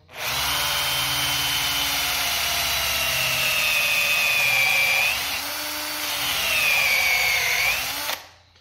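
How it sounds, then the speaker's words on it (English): A barrel trimmer chucked in a power tool trims a wooden pen blank from a fountain pen kit, cutting back the end and cleaning off super glue. A loud, sustained whirring whine dips in pitch twice as the cutter bites, then stops. "the barrel trimmer will trim it down. It also cleans up any super glue."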